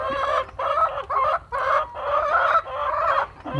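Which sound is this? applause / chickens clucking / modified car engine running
chickens clucking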